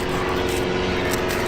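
Airplane engine droning overhead during an outdoor fishing trip, a steady, continuous hum with a sustained tonal note, moderately loud and unbroken, with no talking.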